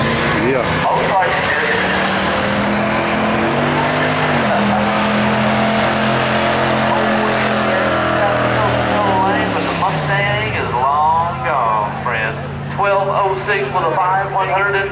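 Car with a small block Chevrolet V8 doing a tire burnout, engine roaring steadily at high revs with squealing tires throughout, loud and close, and voices talking over it near the end.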